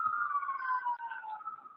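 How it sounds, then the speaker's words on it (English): An ambulance siren passes outside an office, a single faint, slowly falling wail that drifts past at a distance. "there was an ambulance going by my office"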